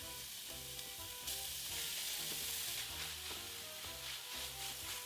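Ground beef hits a pan of onions and minced garlic and fries with a steady, loud hiss and crackle that jumps up at once and keeps sizzling evenly.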